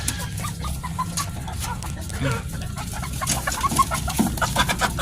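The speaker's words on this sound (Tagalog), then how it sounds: "Saan itong mga manok na to?" Young Shamo chickens cluck and murmur close by in a farmyard, soft repeated clucks and chirps over a low rustling background, with a voice speaking now and then.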